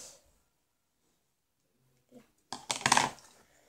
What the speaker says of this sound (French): Et avec mes ciseaux,